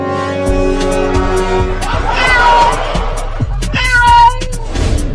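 A cartoon cat meows and yowls in a comic ice-cream cartoon, fairly close and loud, with layered music and a busy mix of voices and effects around it.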